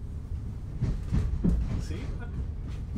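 A Southeastern Class 707 City Beam train runs on rails toward London Bridge, giving a steady low rumble with soft clattering pulses throughout, heard from inside the carriage.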